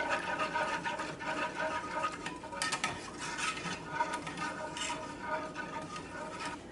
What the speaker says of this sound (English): So 3 cups and a half of half and half. And we just want to stir it really good.